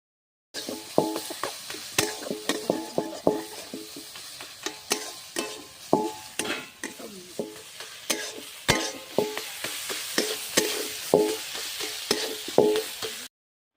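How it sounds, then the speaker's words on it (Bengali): Leafy greens being made into Bengali shaag bhaja are stirred in a pan, with repeated rhythmic scrapes and knocks of the spatula over a soft sizzle, close and alone, with no talk. "এবার ঢাকা তুলে নেড়ে দেব।"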